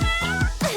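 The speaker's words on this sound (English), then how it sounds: "A kitty." A cat meows several times in quick succession, close and fairly loud, with rising and falling drawn-out cries and no other sounds.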